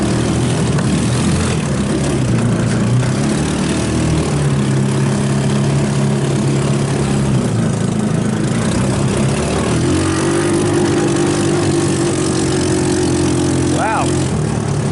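A salvaged 150cc GY6 engine on an off-road go-kart runs while driving, a loud steady buzzing drone whose pitch steps up and down with throttle, with rushing wind noise throughout.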